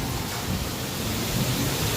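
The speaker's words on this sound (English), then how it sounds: "And the waterfall." A theme-park waterfall at a whale attraction pours steadily, a dense broadband rush of falling water that stays loud and constant throughout without pause.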